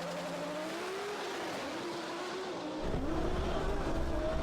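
A Lamborghini Huracan and a Nissan GTR launching in a drag race, a loud sustained engine drone with a rising whine, then a sudden heavier roar as the cars pull away.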